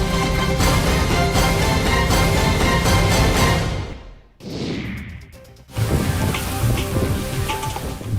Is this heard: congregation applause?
no